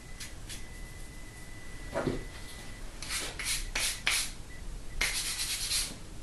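Sandpaper rubbing over the fretboard of a 1970 Gibson J-50 guitar during a neck reset in a workshop, a few short gritty strokes and bursts of rubbing, close and fairly quiet.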